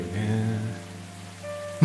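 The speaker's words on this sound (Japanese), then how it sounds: "超雨降ってるんですよね。" Heavy rain pours steadily in the video game Coffee Talk, a dense broadband hiss with a low hum of game music beneath, ending on a brief louder knock.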